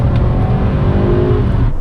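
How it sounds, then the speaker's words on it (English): A Honda Prelude's VTEC engine revs hard and loud, a close, sustained high-pitched mechanical roar that holds steady throughout with no speech. "one thing that Honda VTEC engines love to do, and that's rev."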